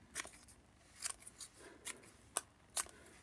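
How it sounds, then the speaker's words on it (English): Scissors snip out small pieces of paper for a craft project: a series of quick, close, crisp cuts in irregular rhythm, heard alone in a quiet room. "And then I'm going to cut out each little piece here."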